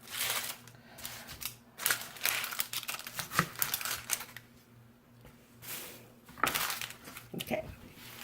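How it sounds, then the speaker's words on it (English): A knife chops an onion on a cutting board in a home kitchen, with irregular crisp cuts and crunches, some louder strikes, over a low steady background hum. "Now I'm going to cut up this onion"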